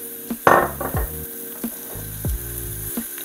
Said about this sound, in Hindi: फ्राई हो गई है अच्छी तरह से, तो हम सब्जियां डाल देंगे।